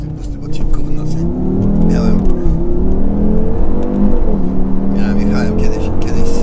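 An Audi RS3 accelerates hard, its engine note climbing loud and close from inside the cabin, easing briefly and then pulling up again as the revs rise.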